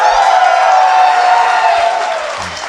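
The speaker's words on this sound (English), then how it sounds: "I just want to get a big cheer here." Live crowd at an esports Worlds tour event roaring and cheering loudly, the wave of noise swelling, then slowly fading toward the end.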